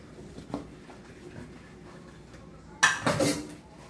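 Camping pots and utensils being washed, soft clinks and scrapes early, then a louder burst of clattering metal and rushing water near the end, close and brief, without talking.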